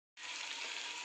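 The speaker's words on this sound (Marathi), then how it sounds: "व्यवस्थित याला आपल्याला फ्राय करून घ्यायचं आहे." Broccoli fries in a hot pan, a sudden steady sizzle that starts abruptly and holds evenly at close range with no voices.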